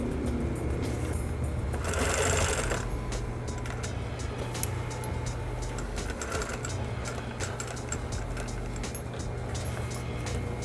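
Sewing machine stitching fabric for a fringed bag made from recycled cloth, running with a steady, close mechanical whir and rapid needle chatter that continues without pause, with a brief louder burst early on.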